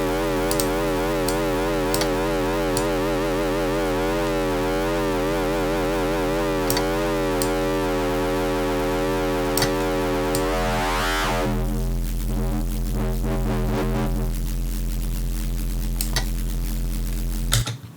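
A distorted, screechy synth bass drones loud and continuously, its harmonics warbling and sweeping, while white noise shifts and swirls through it before the tone changes character partway through and cuts off at the end.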